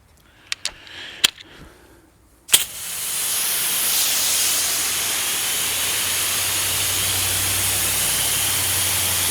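A few sharp knocks, then from about two and a half seconds a steady broad hissing spray of water rinses a Honda Civic during a decontamination wash, close and continuous to the end with a low engine-like rumble beneath.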